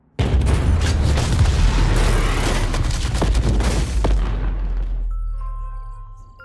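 Explosions from a robot combat fighter movie erupt in a dense, loud barrage of booms and gunfire-like blasts, overlapping for about five seconds before trailing off into a low rumbling decay.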